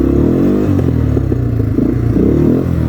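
A motorcycle fitted with a custom exhaust, started in freezing weather, runs close and loud with a throbbing, uneven idle and several quick revving blips.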